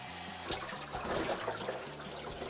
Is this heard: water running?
yes